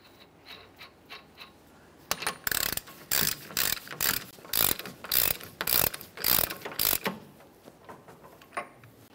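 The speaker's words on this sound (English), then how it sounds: "We'll make sure we use a hand ratchet and we'll torque it to manufacturer's specification" A hand ratchet cranks down the front axle nut of a 2011-2020 Toyota Sienna during a wheel bearing replacement. The loud, close clicking comes in about ten rhythmic bursts, with a few soft ticks before them and no talk.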